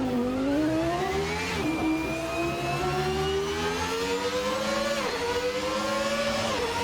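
A 1991 Formula 1 car engine in Assetto Corsa, revving high near 14,000 RPM with rising whining pitch, brief dips at gear shifts, loud and continuous with no talk.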